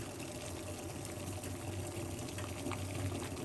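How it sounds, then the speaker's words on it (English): Quiet, steady bubbling and churning of water boiling in a pot for garlic tea, close by and continuous with no voices. "We want the water to boil like that."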